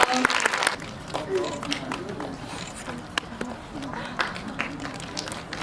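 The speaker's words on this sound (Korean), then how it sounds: "박수 부탁드릴게요." Cinema audience clapping for the first viewer seated in a star's chair at a Korean movie screening, a brief loud burst at first that drops into lighter scattered claps amid room chatter and voices.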